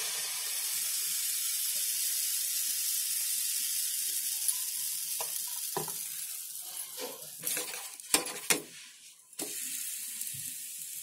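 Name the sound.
pancake batter cooking on a hot tawa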